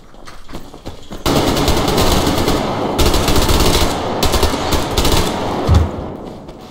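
Automatic gunfire in the video game Survarium, loud, dense bursts running almost throughout with brief pauses, starting after a quieter second.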